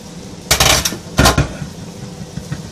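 Chunky steak chili is scooped into a bowl in two loud metallic scrapes of a spoon against a pot, followed by a few softer clinks.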